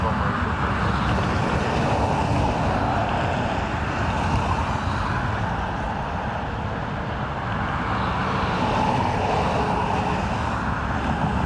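Steady broadband roar of aircraft engines at Dublin Airport, heard from a plane-spotting mound with wind noise, sustained and fairly loud throughout.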